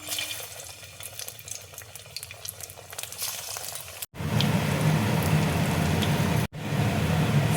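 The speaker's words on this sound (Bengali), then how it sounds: "এবার আমি স্ন্যাক্সগুলো ভেজে নেব।" Puffed rice snacks fry in hot oil in a kadai, a loud, steady bubbling sizzle that swells after a quieter start and is broken by two brief cuts.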